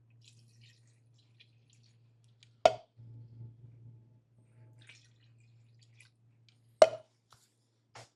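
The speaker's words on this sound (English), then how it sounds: "And I'm gonna add my water." Water is added to a pot of Mexican-style beans with two distinct, splashy plops a few seconds apart, and a low steady hum underneath.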